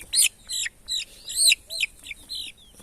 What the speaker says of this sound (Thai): นี่คือไก่ตัวผู้